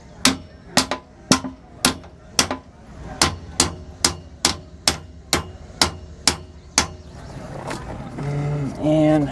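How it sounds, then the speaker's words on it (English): A steel hammer strikes a bolt during installation of a Lippert slide-out gear pack on a 2019 Grand Design Reflection RV, about fourteen sharp, evenly spaced metallic blows close up, followed by a brief low rumble. "I am going to have to use a steel hammer."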